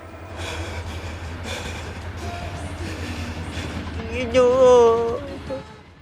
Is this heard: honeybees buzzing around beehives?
no